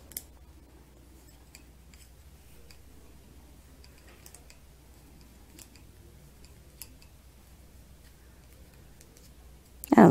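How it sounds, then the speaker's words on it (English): Wooden double-pointed knitting needles click softly and steadily while someone knits a pumpkin, a faint, irregular patter of small clacks over a quiet background, with a louder knock at the very end. "there's something soothing too about the clacking of the wood needles"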